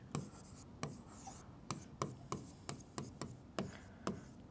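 Pen or pencil strokes scratching on paper while a geometry proof is worked out, about a dozen short, crisp scrapes in an uneven but steady rhythm, close and fairly quiet, with no voices.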